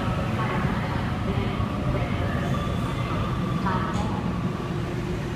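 A Sydney Trains A10 set pulling away from platform 7 at Blacktown, a loud, close, continuous rolling rumble with faint wheel whine, a voice talking over it.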